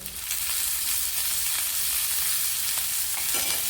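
Chopped onion sizzles steadily in hot oil in a pan for a village-style chicken rassa, a dense, even frying hiss with faint stirring scrapes underneath, close and continuous.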